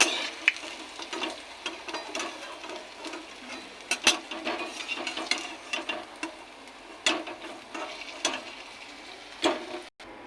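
Prawn-head fritters sizzle steadily in hot oil, a dense crackling hiss broken by sharp clicks and taps of a utensil at irregular intervals, close by with no talking.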